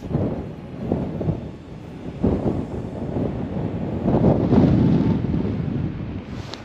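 Wind gusting across open ice during first-ice fishing for crappie and perch, a steady, close, buffeting rumble against the microphone that swells and eases with each gust, with no talk.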